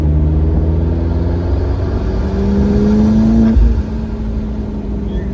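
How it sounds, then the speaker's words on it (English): A McLaren MP4-12C 650S with its turbocharged engine accelerating and easing off, a loud, steady low engine drone with rising harmonics that drops away sharply near the end, heard alone without talking. "it's definitely a much louder sound coming from those turbos."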